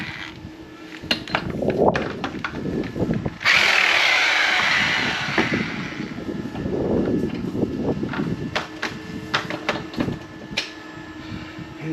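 Lug nuts come off a 2013 Dodge Avenger wheel under a power wrench: a long sustained whirring buzz mid-clip, surrounded by scattered clicks, ratcheting taps and clanks close by in a garage.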